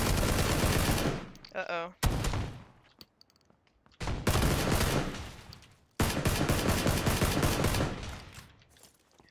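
Automatic gunfire in PUBG during a hospital battle: several loud bursts of rapid shots separated by short gaps, with a player talking briefly between them.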